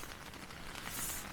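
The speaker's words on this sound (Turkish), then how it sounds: "Yağmur eşliğinde yiyoruz." Steady rain falling outdoors in the Andes mountains of Peru, a dense, even patter of drops on a surface with no talk, continuous and fairly close throughout.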